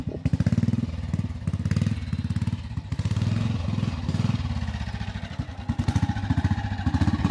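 A BSA trials motorcycle at a trials competition thumps away loud and close, its engine firing in a rapid, steady beat with brief surges as the throttle opens and eases.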